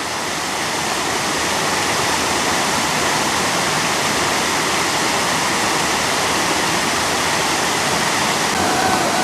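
A waterfall near a railway water intake, sitting between two falls, roars as a steady, loud, close rush of water that stays even throughout, with no voices.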